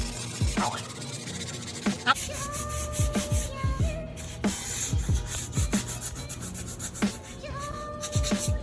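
A Dremel smooths putty on an OEM Infiniti G35 alloy wheel during repair. It makes rough, close rubbing and rasping strokes in irregular bursts, with several short sharp scrapes and intermittent whining tones across the stretch.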